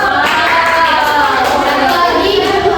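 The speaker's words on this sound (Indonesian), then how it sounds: "Tepuk tangan dulu" A classroom of students applauds a classmate in a language lesson, steady dense clapping filling the whole stretch at close range, with faint children's voices mixed in.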